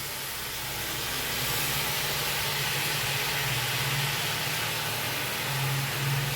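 Spinach leaves hitting a hot frying pan already holding oil, salt and turmeric, giving a steady broadband sizzle with a faint low hum, loud and continuous throughout with no talking.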